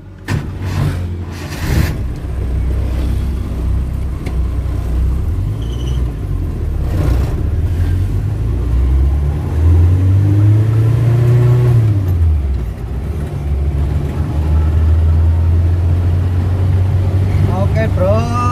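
Suzuki Carry driving on a road, engine rumbling close and loud as it pulls away and rises and falls in pitch through gear changes, with someone talking over the engine noise.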